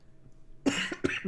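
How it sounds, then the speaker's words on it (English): A person coughs twice in quick succession after a moment of near silence, close and fairly loud. "Forgive me as I cough."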